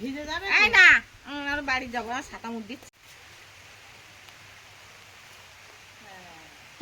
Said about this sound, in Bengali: বৃষ্টি এসে গেছে বৃষ্টি